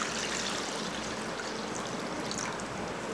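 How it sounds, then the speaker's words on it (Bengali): Milk is poured into a bowl of beaten egg and sugar, a continuous close splashing trickle that holds steady throughout with no voices. "এবার দুধটা ঢেলে দিব।"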